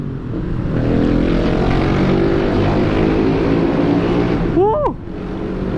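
A steady motor scooter engine drone with rushing wind and a boomy, enclosed roar while riding through a tunnel, ending in a short whistling chirp near the end.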